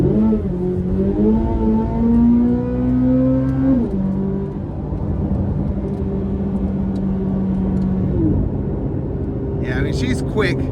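A 2025 Corvette Z06 engine hums steadily and loudly as the car pulls through snow, its pitch rising then dropping and holding; a brief clatter appears near the end.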